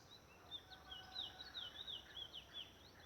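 Several birds chirp and trill in quick, high-pitched phrases on a cold morning near Puyo, fairly faint and distant, over a soft steady outdoor hiss.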